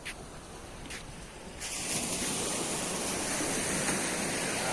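Sea waves wash onto a beach in a steady, broad hiss of surf that grows fuller after the first second and a half, moderately loud with no voices.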